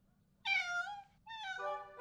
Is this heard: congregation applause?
no